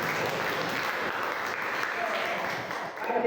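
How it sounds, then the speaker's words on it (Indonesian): A room full of participants at a coding and artificial intelligence session applauds together, steady clapping that holds throughout and swells slightly at the very end. "Ya, tepuk tangan dulu semua."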